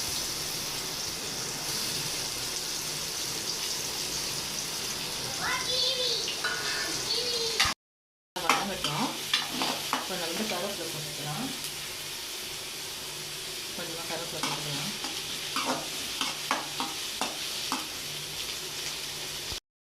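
Onions crackle and sizzle in hot oil for a chicken fry, stirred with scattered scraping clicks, while a voice talks intermittently over the steady frying.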